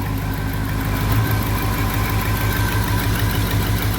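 A 1951 Mercury flathead V8 with a newly fitted Holley red fuel pump idles close by, a steady low throbbing rumble with an even pulsing beat, loud and unbroken for the whole stretch with no talking.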